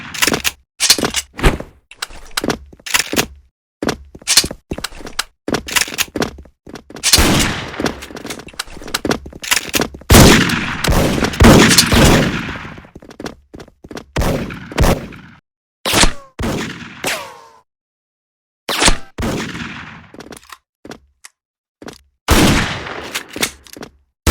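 Gunfire in a first-person shooter video game: loud, close bursts of automatic fire and single shots crackle in rapid, irregular volleys with brief pauses between them, and no talking.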